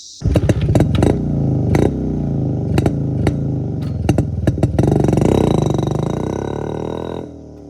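A Yezdi Roadking motorcycle engine runs loud and close, a deep thumping idle punctuated by sharp throttle blips and clattering pulses before it cuts off near the end.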